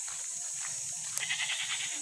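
Goat bleating outdoors on a farm, a faint nasal call heard under a steady background hiss and rumble.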